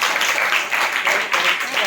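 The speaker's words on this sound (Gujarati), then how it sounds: "તાળી પાડો" Schoolchildren in a classroom clapping for a classmate, a loud, close burst of quick, uneven applause that fills the moment with some voices mixed in.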